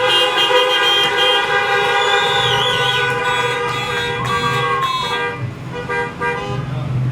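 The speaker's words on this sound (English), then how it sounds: "Let's hear some horn honking for those folks." Many car horns honking together at an outdoor graduation, a loud overlapping chorus of sustained toots and beeps with engines idling beneath, no talk over it.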